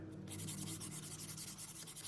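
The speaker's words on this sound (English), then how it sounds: "And it's a lot of more sanding." A 1980s side table is sanded by hand in steady, rhythmic back-and-forth strokes, producing a close, continuous raspy scrubbing with no talking.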